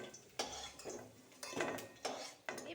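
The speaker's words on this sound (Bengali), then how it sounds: "এবারে আলুগুলোকে তুলে নিচ্ছি।" Utensils scrape and clink in a pan of oil as fried potatoes are lifted out, in four or five short, fairly faint strokes with no talking.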